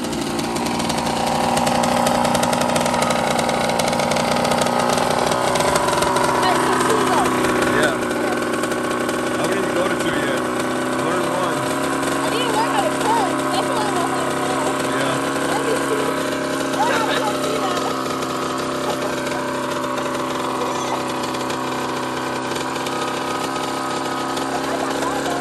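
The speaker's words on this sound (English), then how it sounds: "girlfriend riding dirt bike" A Kawasaki KX85 two-stroke dirt bike being ridden, its steady engine drone holding at a constant level throughout with little change in pitch, suggesting the bike is some distance away.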